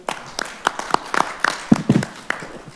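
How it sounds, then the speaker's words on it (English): Scattered, light hand clapping from a small group at a city council study session, a brief uneven patter of claps in a room. "I just wanted to give you a round of applause"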